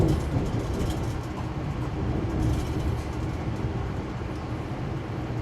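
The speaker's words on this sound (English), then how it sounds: "Oh, look at the L train." A Chicago L elevated train passes nearby, a steady loud rumble and rolling clatter of rail cars across the whole stretch, with no one talking.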